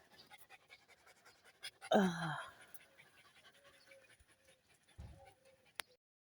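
A dog pants close by in quick breaths on a hot summer day in Bulgaria, with a louder huffing burst early on and softer sounds afterward in a quiet setting.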